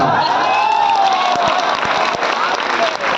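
Loud, sustained applause from a large audience, with scattered cheers and whoops rising through the steady clapping.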